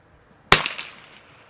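A single sharp crack from a 1968 Savage Anschutz 64 rimfire rifle firing at an outdoor range, close and brief with a short fading tail.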